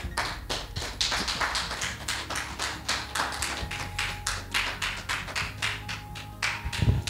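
A church congregation claps steadily in a quick, even rhythm during a service, loud and continuous throughout, with a brief low thump near the end.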